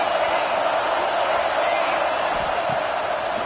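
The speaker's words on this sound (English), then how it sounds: "Listen to the crowd energy here in the early going." A large football stadium crowd roars in a steady, loud, continuous wash of cheering and noise early in a game, with a commentator's voice partly over it.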